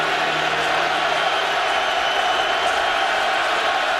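Big stadium crowd at a college football game, UCLA at Nebraska, giving a sustained broad roar of murmuring and calls, steady and dense for the whole stretch, with no clear single voice standing out.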